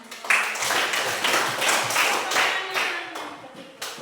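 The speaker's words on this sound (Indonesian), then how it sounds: "tepuk tangan" Children in a classroom clap their hands together in a loose, fairly rhythmic pattern of distinct slaps, close and moderately loud, with some uneven taps and a final sharp clap.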